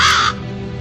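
A single crow caws loudly for a moment and then stops, leaving a low, steady background hum beneath it.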